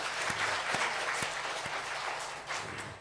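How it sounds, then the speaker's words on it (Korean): A church congregation applauds steadily, a dense wash of clapping that holds throughout, with a few sharper claps standing out. "우리 장로님 박수 한번 쳐줍시다."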